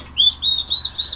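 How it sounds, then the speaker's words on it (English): A family of sparrows chirping at their nest in quick high-pitched bursts, several calls in close succession, loud and near. "we've got a family of sparrows living in a nest just up here"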